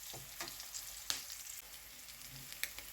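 Spices for tempering fry in a pan for eggplant chutney, giving a faint, steady hissing sizzle with scattered small pops and crackles.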